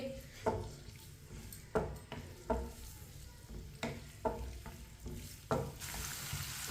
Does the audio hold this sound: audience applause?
no